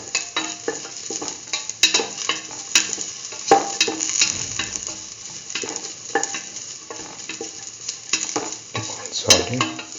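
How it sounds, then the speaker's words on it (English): Mustard okra rice being sautéed and stirred in a pan: a steady close sizzle runs throughout, punctuated by frequent scraping and clinking of the spoon against the pan, with no voices. "Keep on sauteing."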